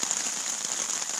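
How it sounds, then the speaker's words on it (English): Steady rain falling on the Appalachian Trail after dark, a constant close hiss of drops with no voices. "as soon as it got dark, it started raining"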